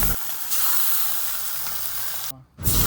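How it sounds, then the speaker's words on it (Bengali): Pabda fish fry in hot oil in a wok, a loud, steady close sizzle that cuts out briefly near the end before resuming, with no talking. "এখন আমি কড়াইয়ে তেল গরম করে মাছগুলো এক এক করে ভেজে নিব"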